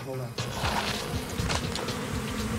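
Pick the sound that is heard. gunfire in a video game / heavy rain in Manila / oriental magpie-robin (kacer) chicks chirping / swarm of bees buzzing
swarm of bees buzzing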